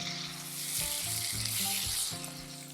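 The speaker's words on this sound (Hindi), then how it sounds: "अब इसके अंदर जाएंगे कद्दूकस किए हुए टमाटर, इन्हें भी करते हैं मिक्स अच्छे से।" Grated tomatoes hiss in a hot masala for pointed gourd curry, a brief close sizzle with stirring knocks of the spoon, and no talk.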